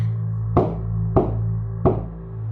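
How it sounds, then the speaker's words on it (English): Three evenly spaced knocks on wooden floorboards, each a short, distinct thud, ring out over a steady low hum in a quiet room. "And she knocked."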